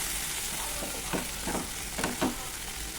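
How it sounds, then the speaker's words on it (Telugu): Eggplant pieces fry in a pan over a low flame for an onion-chili eggplant fry, with a soft constant sizzle and several clear scraping bursts as the mixture is stirred now and then. "మధ్య మధ్యలో ఈ విధంగా కలుపుకుంటూ"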